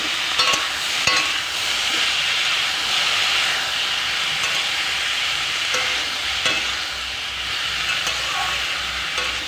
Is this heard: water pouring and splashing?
no